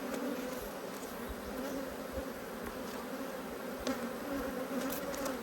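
Agitated honeybees swarming during a hive inspection, a dense continuous buzzing drone with occasional louder passes of individual bees near the microphone, steady and unbroken.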